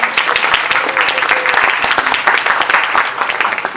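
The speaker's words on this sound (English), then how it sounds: "Give him a round of applause." An audience at a high school poetry evening claps for a staff member. Individual claps stand out sharply within a lively, steady round of applause at close range.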